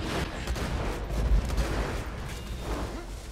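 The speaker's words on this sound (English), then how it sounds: "You're just lucky I've got my sword explosion gun, Claptrap." Shots from a sword explosion gun in the video game Borderlands Assault on Dragon Keep: a rapid, loud string of booming blasts and crackling bursts that rolls on without pause.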